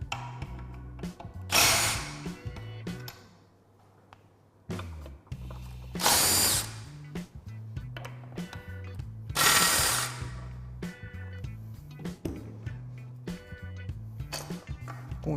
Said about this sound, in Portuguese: Agora a gente vai remover os 3 parafusos de fixação da bomba. Então, são 3 parafusos Allen 6 milímetros.